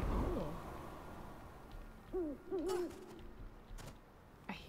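Owl hoots in the video game Never Alone, a few wavering calls at moderate distance rising over a low wind-like ambient bed, spaced irregularly across the scene.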